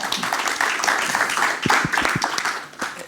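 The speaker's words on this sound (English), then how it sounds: "A big applause" An audience at a panel talk on cultural industries and ecological transition applauds a guest with dense, continuous clapping that holds steady for about three seconds, loud and close, with a few sharper individual claps standing out.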